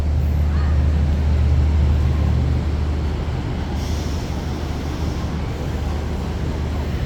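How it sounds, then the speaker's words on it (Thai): Inside Hua Lamphong railway station in Bangkok, a train sits with a steady low diesel rumble and hiss. Station noise is continuous and moderately loud, with a faint brief hiss partway through. "นี่ก็เป็นบรรยากาศภายในสถานีรถไฟ หัวลำโพงนะครับ"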